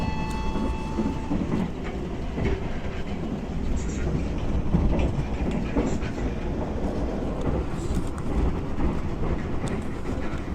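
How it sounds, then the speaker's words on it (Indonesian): A Lodaya passenger train runs on its rails, a steady, loud rumble of wheels and carriage noise filling the whole stretch with faint clacks, heard from aboard. "Kita nikmati perjalanan kali ini, perjalanan singkat naik kereta api Lodaya."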